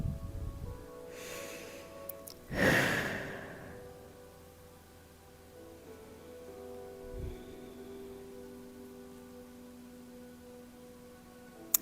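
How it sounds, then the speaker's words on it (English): Quiet breathing during a deep inside-leg floor stretch: one strong, sharp exhale or snort stands out early, followed by soft, slow breaths against a faint background. "And take a few breaths here."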